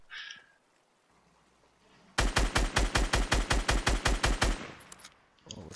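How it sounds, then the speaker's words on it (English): A rapid automatic burst of about fourteen evenly spaced gunshots rings out in Fortnite, loud and close, after a quiet stretch with a faint high chirp at the start. "what's he shooting at?"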